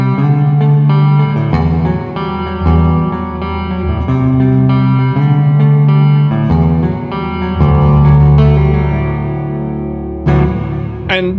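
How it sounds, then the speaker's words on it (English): An electric guitar runs through heavy reverb on an M-Vave Cube Baby effects processor, sustained chords and notes ringing with long washy tails, played alone without talk. "Let's just soup this reverb up."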